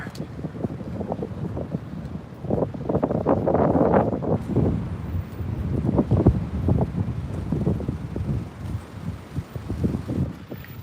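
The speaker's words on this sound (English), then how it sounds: "Oh boy, it's windy." Strong gusts buffet the microphone continuously on a night street near Tokyo Station, a loud low rumbling roar rising and falling in waves throughout.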